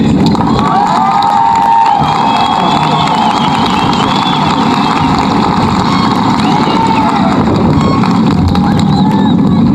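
A graduating high school class and crowd cheer loudly at the Santa Fe High School 2023 graduation, with shouts and whoops over dense crowd noise and a voice or two mixed in throughout.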